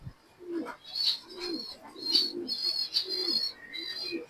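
A racing pigeon coos at the loft as it returns: soft, repeated low coos close by, mixed with brighter chirps and whistling bird calls, and no talking.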